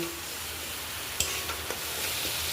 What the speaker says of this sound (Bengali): এবার খুব ভালো করে একটু কষাতে হবে যতক্ষণ না গন্ধ বেড়াচ্ছে রসুন আদা মশলার গন্ধটা বেরিয়ে গেলে